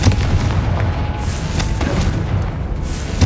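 Repeated booming fire blasts from the Confringo spell in Hogwarts Legacy, a dense rumbling barrage of thuds and pops layered over steady low roar, loud and near.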